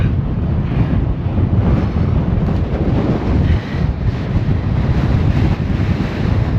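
Strong headwind of around 40 mph during a long road bike ride in sunny Spain, roaring continuously across the microphone as loud, dense, gusting rumble with no speech over it.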